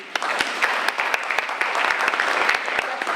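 Audience applause at a public meeting about a bridge replacement over Amtrak tracks, a steady patter of claps with sharp individual hits standing out, fairly close and filling the whole stretch.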